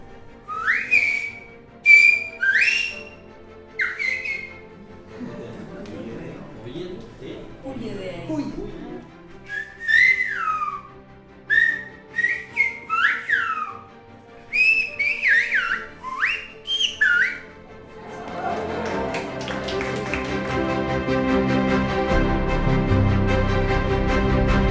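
Whistled Silbo Gomero-style language as practised on Tenerife in the Canary Islands: a series of sharp, gliding high whistles in short phrases, loud and close, with a brief murmur of voices midway and clapping or crowd noise swelling at the end.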